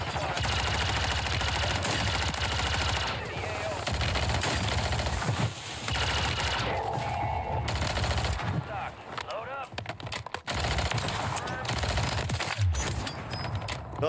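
Sustained automatic gunfire in Call of Duty on Rebirth Island, loud, near and almost continuous, with a few brief breaks and scattered shots from the battle around it.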